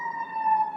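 A siren wails outside, a brief steady tone holding nearly level with a slight rise, moderately loud and heard alone without talk.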